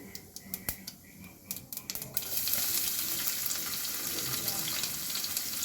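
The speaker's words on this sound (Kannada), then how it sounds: "ಮೊದ್ಲಿಗೆ ಬೆಳ್ಳುಳ್ಳಿ ಹಾಕ್ತಾಯಿದಿನಿ" Garlic is tipped into hot oil for a Kannada-style bassaru with Alternanthera sessilis greens. A few clinks and taps come first, then a loud, steady sizzle of frying takes over and continues.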